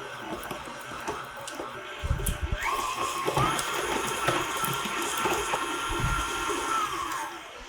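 An electric mixer creams Philadelphia cream cheese with butter, with a few dull knocks before a steady whirring motor drone rises and runs on at moderate volume.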